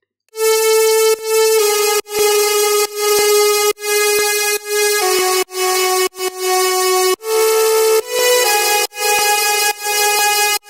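Serum top lead built from detuned saw waves in a drop, playing a bright, buzzy melodic line of sustained notes with brief breaks between them.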